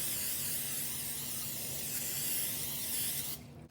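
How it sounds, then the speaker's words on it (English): A steady, close hiss of cooking oil spray onto a muffin tin lasting a few seconds, then cutting off abruptly near the end. "I'm just gonna spray it down with some spray oil just to make sure the muffins don't stick"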